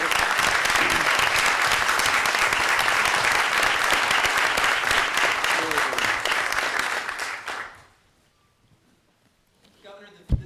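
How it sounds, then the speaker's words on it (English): A room of officials at a government cabinet meeting gives sustained, steady applause for several seconds that stops abruptly, leaving near silence before a voice begins to speak. "Let's give them a round of applause for a great job"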